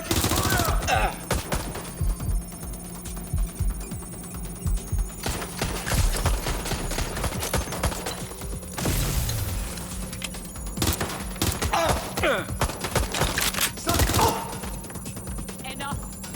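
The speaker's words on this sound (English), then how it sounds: "Taking fire!" Dense gunfire in the video game Watch Dogs Legion rattles in loud bursts and repeated shots over a constant hum, with heavier impacts scattered through and a voice calling out at times.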